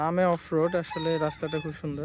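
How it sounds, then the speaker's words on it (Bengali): A rooster crows and hens cluck nearby on a rural off-road cycling route near Dhaka, with a person talking over the birds almost the whole time. "মুরগির ডাক আছে"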